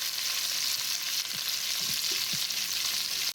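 Three small garlic cloves frying in a hot pan for a keto beef stew, giving a steady, close sizzle throughout with a few soft stirring knocks and a brief scrape near the end.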